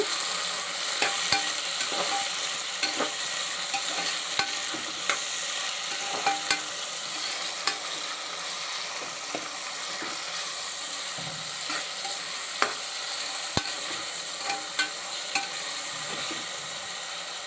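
Tomatoes fry in a pan for a tripe curry, a steady loud sizzle broken by regular scraping stirs of the spoon throughout. Nobody speaks.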